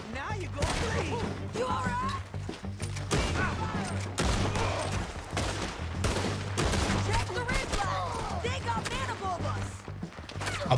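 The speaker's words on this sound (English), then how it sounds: "Why are you suddenly shooting very loudly?" Rapid Red Dead Redemption 2 gunfire, dense and loud, with repeated shots in a near-continuous barrage and voices talking underneath.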